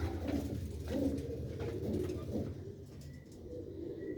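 Several pigeons coo in a loft, their low throaty calls repeating in overlapping waves over a steady background murmur, fairly quiet and without speech.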